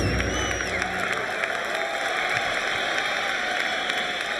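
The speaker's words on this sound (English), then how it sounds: "The crowd in this arena is electrified." Arena crowd at a Las Vegas boxing event cheering and applauding, a dense, steady wash of clapping and shouting throughout, fairly distant, with no clear talk over it.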